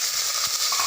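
Green chilies sizzle steadily in hot oil in a frying pan, a dense close hiss with small pops, no talking.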